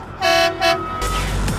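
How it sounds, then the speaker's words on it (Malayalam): A truck's horn gives two loud, close blasts, and then a heavy rumble of engine and road noise follows. "പക്ഷെ അത് നിയമപരമായിട്ട് ആ ഹോൺ അടിക്കണമെന്നാണ്"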